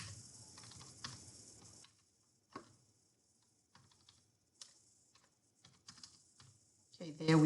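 Bursts of clicky typing on a computer keyboard while entering an address in a Microsoft Word resume, irregular clusters of keystrokes separated by pauses, close and fairly quiet.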